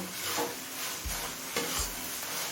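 Crushed cardamom, a piece of cinnamon and cloves sautéing in hot oil in a pan, with a brief close sizzle and a couple of spatula scrapes and knocks.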